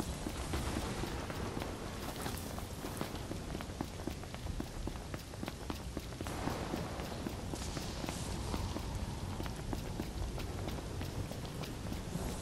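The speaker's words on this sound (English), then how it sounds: "How about we get out of the rain?" Steady, dense rainfall in Final Fantasy XV hisses evenly throughout, with rapid footsteps pattering along underneath the downpour.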